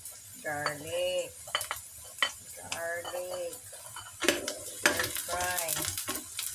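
Garlic frying in a pan over high heat, sizzling under bursts of stirring with metal utensil scrapes and clinks against the pan, with voice-like tonal fragments in places.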